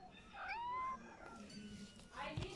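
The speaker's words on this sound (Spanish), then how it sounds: "Escuché un miau. Escuché un miaucito." A small kitten gives a short rising meow near the start, a thin, faint cry in a quiet indoor space, followed by soft rustling and another brief faint sound near the end; a person speaks quietly as well.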